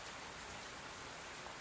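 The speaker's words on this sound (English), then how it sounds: "while listening to the rain." Steady rain falls continuously, a soft, even hiss of drops pattering on surfaces with no voices or other sounds.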